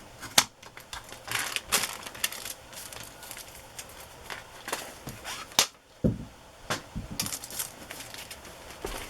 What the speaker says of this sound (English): I'm going to trim this bag so it'll fit on the page.